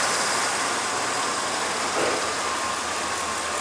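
A 2002 Chevrolet Avalanche with the 8.1-litre Vortec V8 idles steadily, a continuous, even engine drone with no one speaking over it.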